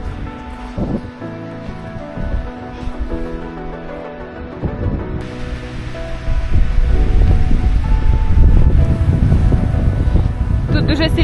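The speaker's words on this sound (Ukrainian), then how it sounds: "сильний вітер починається" Strong mountain wind gusts buffet the microphone near Polana Rusinowa, Zakopane, building into a loud, continuous roar in the second half, with a person speaking faintly underneath early on.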